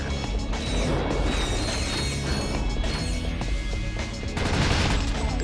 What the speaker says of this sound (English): Explosions are pretty.